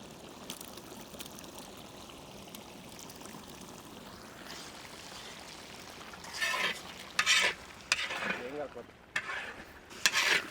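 Ground spice paste for a pepper chicken roast frying in a pan, with a steady low sizzle at first and then louder bursts of spattering and stirring in the last few seconds.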